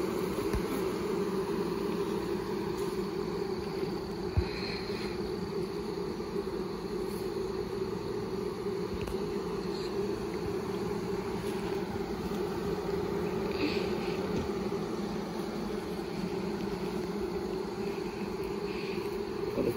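A large swarm of honey bees being caught in a backyard, a steady, dense insect hum droning continuously and evenly throughout, fairly close, with no talking.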